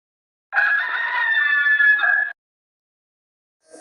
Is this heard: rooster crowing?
yes